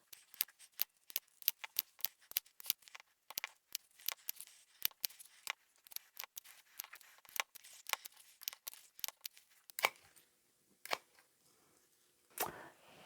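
Scissors snip rapidly through fabric pieces for fluffy bags, dozens of short, crisp cuts in quick irregular bursts, close and fairly quiet, with a couple of louder snips near the end.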